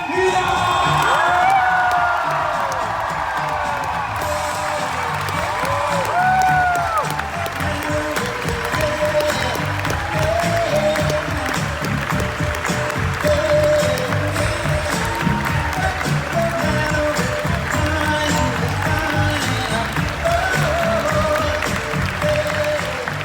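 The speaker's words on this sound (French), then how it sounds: "Mesdames et messieurs, un tonnerre d'applaudissements pour Karen Miller." Audience applause fills a hall at Comic Con Paris, dense and sustained for the whole stretch, with scattered cheers and whoops rising out of the steady clapping.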